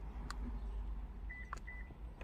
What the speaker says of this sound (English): And the car beeped.